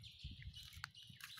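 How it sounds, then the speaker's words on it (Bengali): Small birds in a garden give brief high chirps and tweets, faint and spaced out over a low background rumble. "পাখিগুলো ডাকছে, পাখির ডাক শুনতে খুবই ভালো লাগে"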